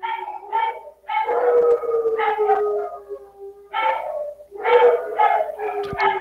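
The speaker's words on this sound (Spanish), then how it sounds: "déjenme que se callen mis perros" Several dogs bark and howl in repeated loud bursts close by, their voices overlapping in long wavering calls with short pauses between volleys, heard indoors at home.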